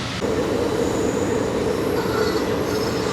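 A passenger train rolls steadily along a desert railway route in Rajasthan, India, with a constant rumbling roar and a faint metallic wheel squeal above it.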